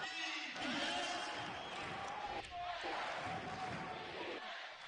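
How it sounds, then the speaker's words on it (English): A basketball arena crowd roars and cheers for several seconds in a loud, continuous wash of voices, with a commentator talking over it. "the crowd loving this"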